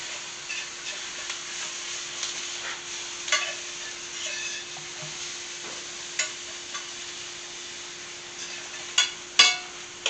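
Minced garlic hits a hot pan for beef stroganoff, giving a steady crackling sizzle with light stirring scrapes and a few sharper pops near the end, with no voices.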